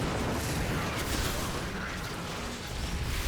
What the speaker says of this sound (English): More shots right down the center.